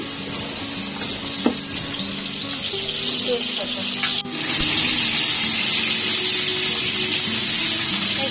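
Onion softening in a hot pan hisses with a steady bright sizzle throughout, while a person talks nearby.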